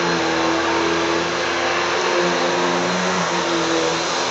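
A household vacuum cleaner runs close by with a steady, even whine and airy roar that holds for the whole stretch without pause or talk.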